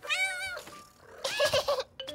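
A kitten meows in a high, wavering cry, then after a short pause gives a louder run of several quick, bright meows, close and alone.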